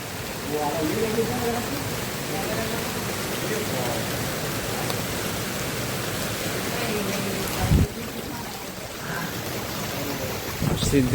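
Steady, dense rain pours down continuously at night with a broad hissing roar, and a low thud or rumble breaks through briefly.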